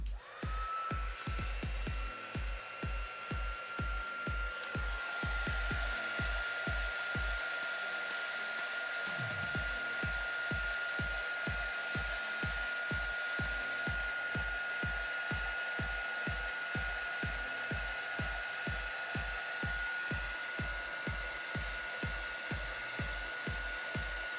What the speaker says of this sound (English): So I got my embossing tool.